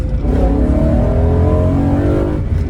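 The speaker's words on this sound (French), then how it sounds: "la réactivité du moteur couplée à cette sonorité, à cette plage sonore qui n'en finit jamais, c'est incroyable" A BMW M3 E92 engine revs hard in a sustained, rising howl, loud and close inside the car, with no talking over it.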